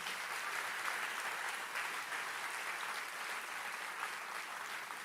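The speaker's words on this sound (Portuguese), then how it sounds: "Pode aplaudir a Deus." A church congregation applauding, a sustained wash of many hands clapping at a moderate distance, steady and even for the whole stretch with no voices over it.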